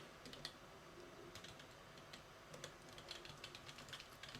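Keys clatter on a computer keyboard, a run of quiet, close, rapid clicks against faint background hiss.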